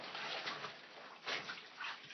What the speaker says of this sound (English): Put in a little bit of water. Start rinsing out a bit.